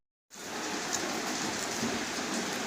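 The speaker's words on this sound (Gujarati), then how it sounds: "અમારે તો વરસાદ ચાલુ થઈ ગયો છે" Rain begins abruptly after a brief silence, then holds as a steady, dense hiss of drops on surfaces outside a hostel, fairly close and continuous with no voices.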